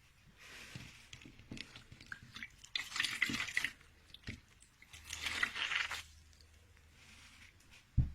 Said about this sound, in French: Et une fois qu'on a fait tout ça 2-3 fois, on va rincer.